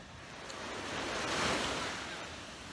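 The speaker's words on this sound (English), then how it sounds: "But do y'all hear the ocean?" Ocean waves break near a beach at night, a soft continuous wash that rises to a gentle swell midway and then ebbs, with no one speaking.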